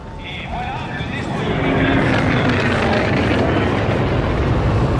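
Aircraft engine in the Call of Duty Infinite Warfare video game, a steady broadband roar that builds slightly and then holds, playing under French-speaking voices.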